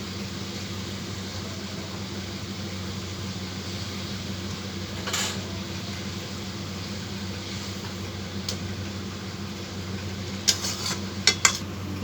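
Stuffed pointed gourds in gravy are stirred in a pan, with a few sparse clinks and scrapes of a utensil against metal over a steady background hum like a fan.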